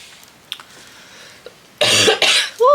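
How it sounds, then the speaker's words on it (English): After a quiet stretch with a couple of small clicks, two loud, harsh coughs burst out close up, followed by a short voiced sound. "Ooh, something's made me cough."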